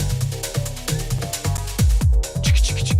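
A mixed music track pairs repeating deep bass hits with a bright, staticky, washy high synth snare layered on top, all in a loud, steady rhythm with no talking.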